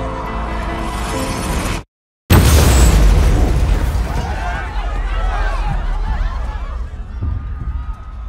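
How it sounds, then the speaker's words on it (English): A loud explosion near the finish line of the Boston Marathon, a heavy boom that cuts out briefly and then bursts into a sustained rumbling roar, followed by crowd noise and shouting voices. "there was an explosion"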